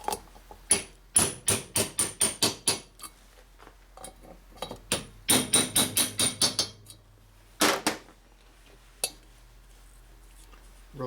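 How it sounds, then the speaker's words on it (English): Sharp metallic steel hammer taps ring out in quick bursts of several strikes while installing high-lift valve springs on a 1977 Harley-Davidson Sportster Ironhead, separated by pauses, with a few lone hits near the end. "Just tap them on with a steel hammer."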